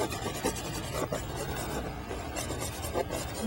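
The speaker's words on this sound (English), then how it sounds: "Just rubbing a little of that brown right in there." Van Dyke brown oil paint being rubbed into canvas with a brush, giving a steady, close scrubbing rasp that continues without a break and has no voices over it.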